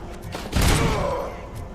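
Gunfire in the first-person shooter Robocop: Rogue City, a loud burst of shots with heavy thuds at close range, followed by a sustained rumbling blast.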